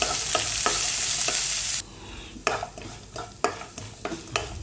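Finely chopped onion frying in a pan for semiya upma, loud hissing sizzle at first, then quieter frying punctuated by repeated spatula scrapes and taps against the pan, no voices.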